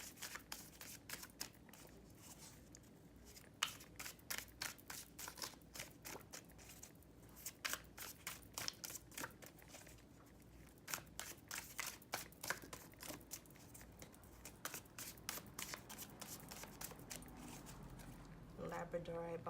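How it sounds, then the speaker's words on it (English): Tarot card decks riffle and slap together in quick bursts, close up and fairly quiet, with a soft voice talking throughout. "Just going to go on and shuffle these decks."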